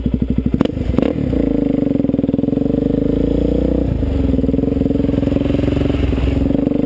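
A dirt bike engine pops at idle, then holds a loud, steady rev close by during a clutch-up wheelie, with a sharp clatter as the clutch releases early on.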